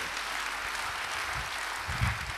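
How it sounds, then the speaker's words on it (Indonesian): A church congregation applauds during a sermon, a sustained wash of many hands clapping at even volume, with a couple of heavier low thumps near the end. "Beri tepuk tangan buat Dia."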